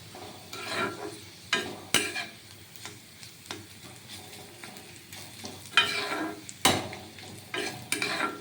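Bottle gourd peel fries in a pan with a soft continuous sizzle, broken by repeated scraping and stirring strokes of a spatula.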